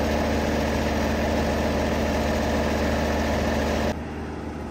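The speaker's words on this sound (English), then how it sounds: "We have the loader tractor. This is the John Deere 7810." A John Deere 7810 loader tractor engine idles close by with a steady, loud, low rumble and vibration, which drops abruptly in level near the end.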